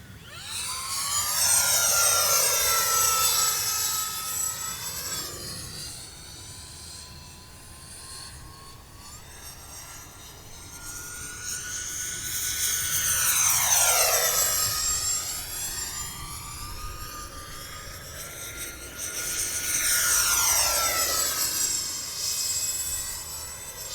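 An E-Flite F-14 Tomcat twin 40mm EDF radio-controlled jet, wings fully swept and gear off, makes repeated high-speed passes, its ducted-fan whine rising and falling in pitch as it sweeps toward and away from the listener.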